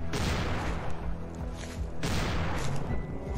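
Rapid gunfire bursts in a fan-made Halloween video game, loud dense shots with two heavy clusters near the start and middle over a constant game din, no talk.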